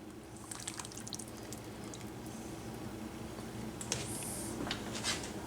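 Heavy cream is poured into a pot of white chicken chili, giving a faint, soft liquid trickle with light drips and squishy splashes close by, without speech.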